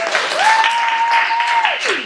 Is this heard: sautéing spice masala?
no